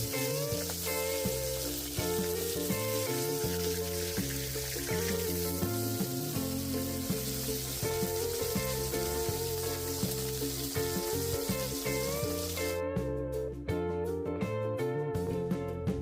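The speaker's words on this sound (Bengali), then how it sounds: "এক পাশ ভাজা হয়ে গেলে আমি মাছগুলোকে উল্টিয়ে অপর পাশটিও ভেজে নিচ্ছি।" Small river puti fish frying in hot oil in a pan, a continuous loud sizzle heard under steady background music, with no talking.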